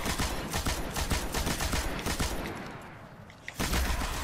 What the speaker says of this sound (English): Let's bust out the heavy weapon.